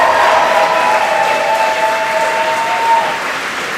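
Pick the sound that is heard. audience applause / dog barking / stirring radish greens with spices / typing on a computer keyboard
audience applause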